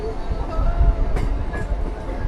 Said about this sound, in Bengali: ছুটছে ট্রেন এই মুহূর্তে আমাদের ট্রেন ঢুকছে শ্রীপাট শ্রীখণ্ড রেল স্টেশনে